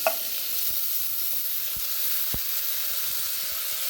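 Moong dal fries in a pan for a Mangalorean hesarubele breakfast dish, with a close, continuous hiss and sizzle and a few soft scraping stirs of a spoon. No one speaks.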